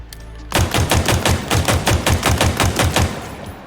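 An AR assault rifle in Halo Infinite fires unscoped in one sustained automatic burst of about fourteen rapid, evenly spaced shots. The gunfire is loud and close, with no talk over it.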